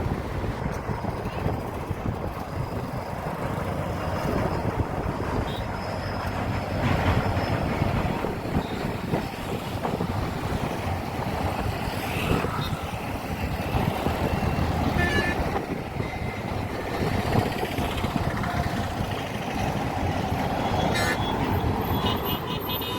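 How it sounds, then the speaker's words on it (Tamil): A train rolls across a bridge near a beach at Ariyaman, a continuous rumbling clatter with rhythmic wheel knocks heard from moderate distance, steady throughout with wind and outdoor noise, no talking. "இந்த பாலத்து வழியாக ஒரு ட்ரெயின் போகிறத நாங்கள் எடுக்க முடிஞ்சிச்சு"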